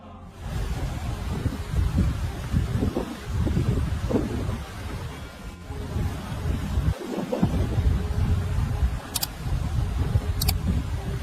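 Gusty Storm Arwen wind roars and buffets continuously against the microphone, with low rumbling surges and a faint whine in the background.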